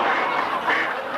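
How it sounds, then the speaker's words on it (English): A duck lets out a loud, close, raspy quack in one sustained burst, heard alone without talk. "A lady with a duck."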